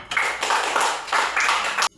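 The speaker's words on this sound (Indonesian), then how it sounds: "Tepuk tangan untuk Michelle" Schoolchildren in a classroom religion lesson applaud a classmate, a dense, even burst of many hands clapping up close for about two seconds before stopping abruptly.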